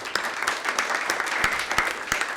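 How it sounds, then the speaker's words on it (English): A tech event audience gives a quick round of applause, with dense clapping and scattered sharp individual claps heard close and steady across the short burst. "another quick round of applause."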